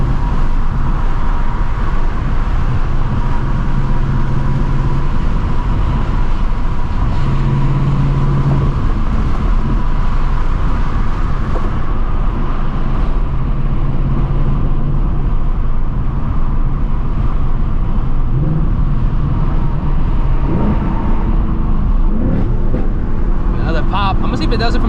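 A Shelby GT350's engine with headers drones and strains continuously, with a rising pitch as it accelerates, heard from inside the car amid road and wind noise.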